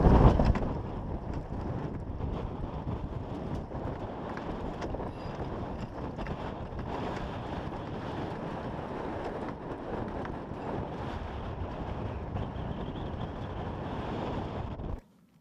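Strong wind of around 30 knots gusting to 35 blows over Santa Monica Bay, a loud steady roar of wind buffeting the microphone with rushing water beneath, continuous until it cuts off abruptly at the end.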